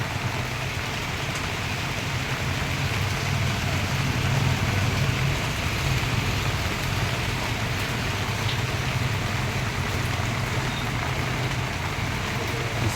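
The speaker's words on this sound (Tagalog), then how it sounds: "At malakas ang ulan." Heavy rain pours steadily in a dense, even hiss on Mt Provence, with a low rumble underneath and no voices throughout.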